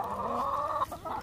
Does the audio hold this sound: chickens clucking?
yes